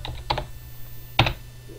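A computer keyboard gives a few quick, close keystrokes in two small bursts, crisp clicks against a faint steady hum.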